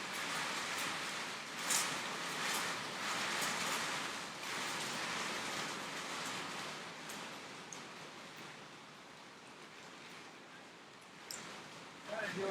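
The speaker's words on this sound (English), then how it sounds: "the rain is blowing in from this way, and the building is blocking our technology from getting all wet" Steady rain falls outdoors beside a building, a dense continuous hiss with occasional louder drops and gusts, no talking over it.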